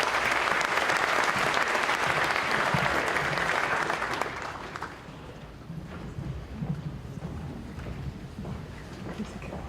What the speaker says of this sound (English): Let's give the baseball team one more round of applause.